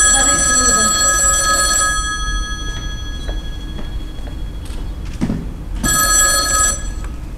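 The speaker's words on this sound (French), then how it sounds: "Téléphone! J'ai entendu. Ben, on va répondre." A telephone rings in loud bursts, one long ring at the start and another near the end, with quieter room noise and a few knocks between.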